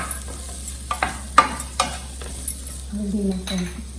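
Samosa filling fries in a pan as a utensil stirs it, a run of sharp scraping taps against the pan over a quiet sizzle, ending in a softer, smoother frying hiss.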